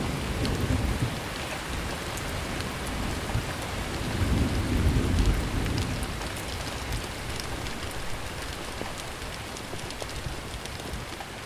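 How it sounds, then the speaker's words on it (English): A thunderstorm with steady rain, watched from a porch: a constant close hiss of rainfall with a deep rolling thunder rumble swelling midway, then fading back into the downpour. "they're just watching the thunderstorm"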